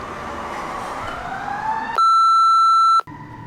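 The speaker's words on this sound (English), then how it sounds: "Those are real sirens." An emergency vehicle siren wails with a rising tone behind background noise, then a loud, steady electronic tone cuts in for about a second before the ambient sound returns.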